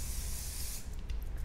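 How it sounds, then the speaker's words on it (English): Oil spray misted from a spray bottle onto parted bleached hair, a single steady close hiss lasting most of a second before cutting off, followed by faint rustling. "I grab the oil and then I spray."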